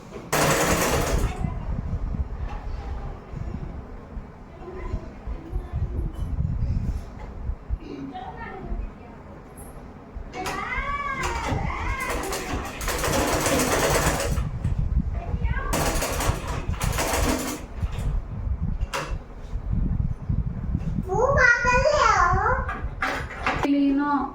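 A sewing machine stitching a suit in fast rhythmic bursts of mechanical whirring that start and stop, with children talking and babbling nearby between and under the runs.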